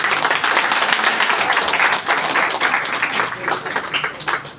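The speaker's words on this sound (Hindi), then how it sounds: "अब मारो ताली।" An audience claps at a Hindu religious gathering on cow protection and Sanatan Dharma, in a dense burst of hand-clapping that swells and then thins out over a few seconds, with voices mixed in.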